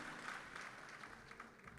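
An audience at a mushaira poetry gathering claps in a brief, faint burst, sounding distant and diffuse as a steady wash of many hands.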